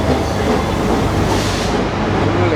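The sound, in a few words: AC express train arriving at station, Colombo train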